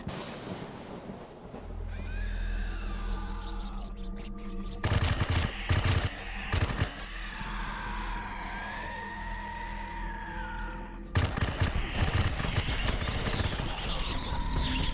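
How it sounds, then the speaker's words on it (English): A sentry gun in the space game Empyrion Galactic Survival fires in loud, dense bursts over a steady game hum, with tonal sci-fi effects between the volleys. "Forgot about the sentry gun above my head."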